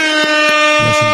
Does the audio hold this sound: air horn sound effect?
yes